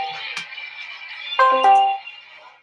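A phone ringtone in a game plays alone, a clear bright electronic melody with sustained tonal notes, loud and close, swelling briefly near the middle before fading out.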